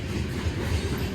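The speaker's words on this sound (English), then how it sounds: "If you look at the wheels on the train cars, you can actually see the flat spot sometimes." A Union Pacific grain train rolls past, with a low, rumbling thump from a flat spot on a wheel pounding the rails over steady clattering wheel noise.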